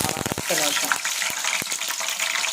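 Fenugreek seeds dropped into hot oil, a loud, dense hiss of frying that continues steadily and close, with a few brief knocks and a voice heard at the start.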